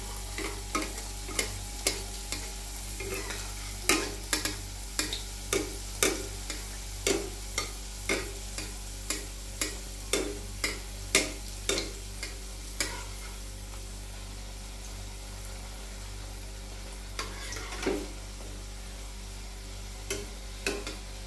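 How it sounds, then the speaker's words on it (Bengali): Chandrapuli filled with kheer and coconut frying two at a time in hot oil over a medium flame, giving a steady close sizzle punctuated by frequent sharp crackles and pops, with no voices. "তেল গরম হয়ে গেছে, চন্দ্রমুলিগুলো দিয়ে দিলাম। মিডিয়াম ফ্লেমে আমি এটা ভেজে নেব, দুটো দুটো করে দিয়ে ভাজবো,"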